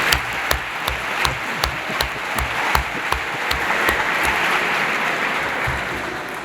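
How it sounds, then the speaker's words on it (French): Steady audience applause for the academic rectors at a formal university opening ceremony, a dense sustained round of clapping filling the room with little talk. "On applaudit les recteurs, c'est quand même pas mal cela."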